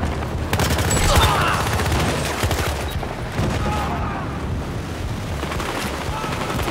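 Gunfire rattles in the video game Battlefield Hardline during a heist: dense, loud bursts of shots roll together with booming, chaotic background noise, heaviest in the first seconds and continuing steadily after.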